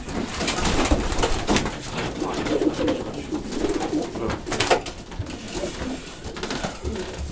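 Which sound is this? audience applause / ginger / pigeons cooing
pigeons cooing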